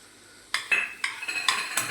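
Melted garlic being stirred and mixed in a pan for garlic bread, a string of close metallic scrapes and clinks of a utensil against the pan over a faint sizzle, with no talking.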